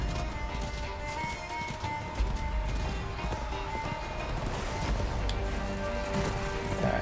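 A horse gallops steadily in the fantasy video game Darksiders II, a continuous run of clip-clop hoofbeats at moderate level over game ambience with no speech.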